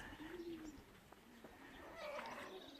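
Racing pigeons at their loft after a 152 km race give soft, faint cooing calls over quiet outdoor ambience, with a few light taps and no speech.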